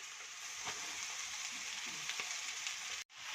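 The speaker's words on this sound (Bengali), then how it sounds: "এবার ভালো করে ভেজে নেব" Chow mein noodles and mixed vegetables fry in a hot pan for chicken chow mein, a steady close sizzle with a few soft stirring clicks before a brief cut near the end.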